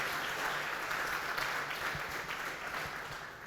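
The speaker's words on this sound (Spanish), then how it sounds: "Dale un aplauso al Señor" Church congregation applauding during a service, steady many-handed clapping at moderate distance that fades slightly toward the end.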